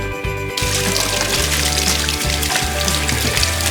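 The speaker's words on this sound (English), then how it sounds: "run them under some cold water." Cold water runs from a kitchen tap in a steady, close splashing stream as hands are held under it, with the flow shifting slightly in tone as the hands move.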